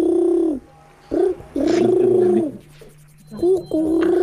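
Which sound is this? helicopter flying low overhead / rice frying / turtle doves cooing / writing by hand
turtle doves cooing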